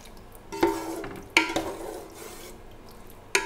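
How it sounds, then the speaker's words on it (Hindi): Chickpeas for chana pulao sauté in a pot, giving a quiet, close frying sizzle broken by three sharp clinks of a spoon against the pot while being stirred. "ज़बरदस्त से चने हमारे भून रहे हैं"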